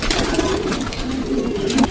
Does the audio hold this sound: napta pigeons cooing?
yes